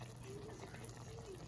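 Liquid poured off a pot of spaetzle in a home kitchen, a faint, steady watery pour that runs without pause for the whole moment.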